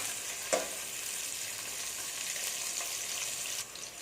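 Whole peeled garlic cloves and onions sauté in a pan for prawn pulao, a steady close sizzle throughout, with a brief clatter near the start and a slight drop toward the end.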